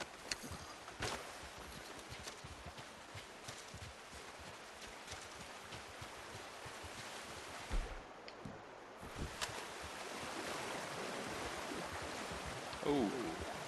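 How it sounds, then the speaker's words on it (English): Flowing river current in Red Dead Redemption 2 rushes steadily as a broad, continuous wash, broken by scattered splashy knocks and a brief drop near the middle, then growing slightly louder toward the end. "look at this water pushing against me"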